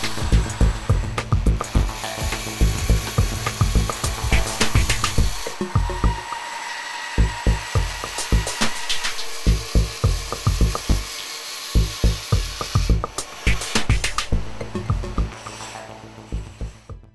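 Knife grip materials for Forge de Laguiole knives are cut by hand in a workshop, making close, rhythmic rasping and clicking strokes that repeat steadily with brief pauses and no talking.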